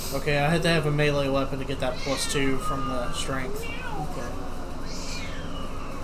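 A pet cat meowing insistently, several drawn-out, rising and falling cries close by, heard under people talking during a tabletop game session.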